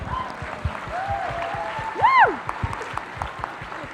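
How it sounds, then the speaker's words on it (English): Audience applause at a comic convention fan event, a steady wash of clapping with a voice rising briefly over it partway through. "Applaud yourself."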